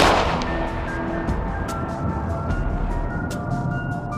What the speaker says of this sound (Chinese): 小美本想阻止胖哥开枪，但刚探出身子就被胖哥一枪击中。